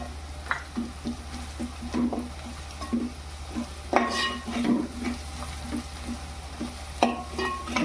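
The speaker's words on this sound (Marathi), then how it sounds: "आता आपल्याला याच्यात हळद टाकायची" Turmeric being stirred into frying palak paneer: a steady low sizzle with repeated scraping spoon strokes against the pan, a few sharper clinks near the middle and end.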